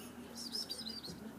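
A bird outside gives a brief burst of thin, high chirps, faint against a steady indoor background.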